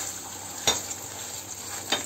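Pepper paste and tomato paste stirred and mashed into hot oil in a pan, a soft sizzle under two brief utensil scrapes against the pan.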